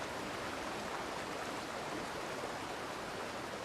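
A Himalayan mountain torrent flows in a steady, dense broadband rush of water, constant and enveloping with no breaks, heard alone without voices.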